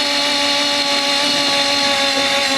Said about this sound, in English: You do have to drill through the sill into the main bar.